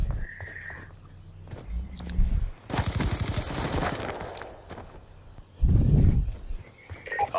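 Gunfire in the video game Call of Duty Black Ops 2, a short burst of rapid shots in the middle amid game sounds, with a few quieter thuds and effects before and after.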